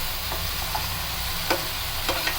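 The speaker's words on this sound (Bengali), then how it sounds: "খুন্তি দিয়ে নেড়ে ভালো করে কাঁঠালগুলো মশলার সাথে মিশিয়ে নিচ্ছি" Raw jackfruit pieces with spices are turned with a spatula over low heat, a constant sizzle broken by a few brief scraping strokes.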